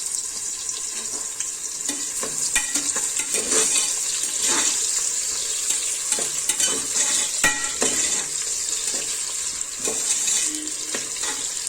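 Chopped onions go into hot oil with cinnamon and cloves in a pan while cooking a country chicken biryani, giving a loud, continuous sizzle and frying hiss with scraping stir strokes, no voices.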